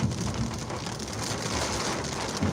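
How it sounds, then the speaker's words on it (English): Rain falls steadily in a dense, continuous hiss of drops on surfaces, even and moderately loud throughout, with no voices. "The rain came down, y'all."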